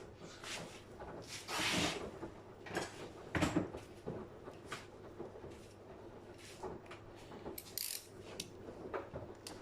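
A ratchet fitted with a female Torx 8 socket works during clutch removal on a Citroën C3 1.2 PureTech, with intermittent clicking bursts and metallic clanks of tools and parts, close by in a quiet workshop.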